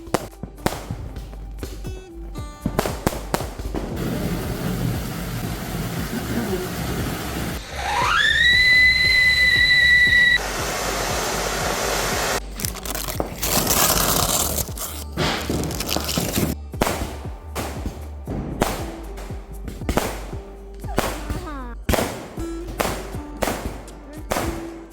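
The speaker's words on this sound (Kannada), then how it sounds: "ಆ ಸ್ವೀಟ್ ಎಲ್ಲ ತಿಂದಮೇಲೆ ಪಟಾಕಿ ಹೊಡೆಯೋಕ್ಕೆ ಶುರು ಮಾಡ್ತಾರೆ" Firecrackers set off early in the morning for the Vishu festival crack and bang repeatedly, some near and sharp, with a rising whistling rocket in the middle and a voice talking at times.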